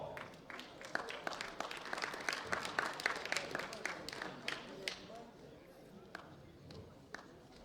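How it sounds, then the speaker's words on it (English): Crowd applause breaks out for the bronze medalist in the sub-junior men's 74 kg class at a world bench press championship, a dense run of claps swelling and then thinning toward the end, with an announcer's voice over it. "Rounding ovation for Karol Budziwo."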